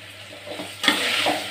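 Chopped eggplant and carrot sautéing in a little oil for idli sambar sizzle quietly at first, then the sizzle surges and stays loud and hissing as the pan is stirred.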